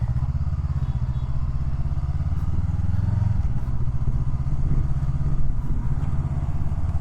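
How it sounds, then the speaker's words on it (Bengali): Dense motorcycle traffic idles and creeps in a jam on the road from Kolkata to Puri, a continuous low engine drone with occasional clatter and thumps, near and fairly loud. "হ্যাঁ, বাইকের কী চাপ"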